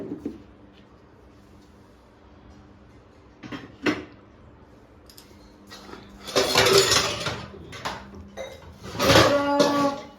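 Dishes and utensils clatter and clank in bursts, with a few isolated knocks early on, then louder jumbled rattling of metal and crockery.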